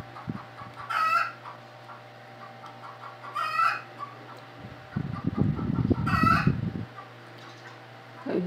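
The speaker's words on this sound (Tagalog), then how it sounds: "Ingay ka, manok." A chicken crows three times in bursts, with a loud low rustling or clucking commotion between them, up close over a steady background hum; no one speaks.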